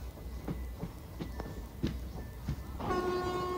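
The Tungabhadra Express pulls out of Shadnagar station with rhythmic wheel clatter over rail joints in regular beats, then a sustained horn tone joins near the end, heard from on board at moderate volume.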